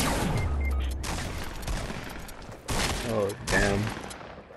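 Rapid bursts of gunfire in the Fortnite video game fill the scene, with repeated loud shots in clusters and a player's voice reacting briefly over the shooting.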